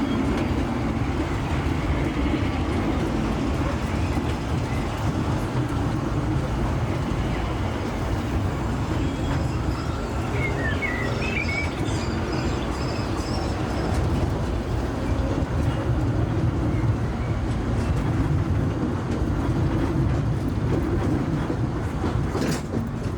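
A mine train roller coaster rumbles continuously along its track at Disneyland, a steady loud roar with rattling wheels and faint squeals throughout, without any pause.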